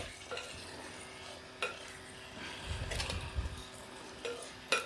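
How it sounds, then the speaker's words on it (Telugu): Vegetable rice with pepper powder being stirred in a pot, soft scraping strokes with a few light clinks of the utensil against metal and a faint sizzle underneath. "ఇప్పుడు దీన్ని బాగా కలుపుకొని"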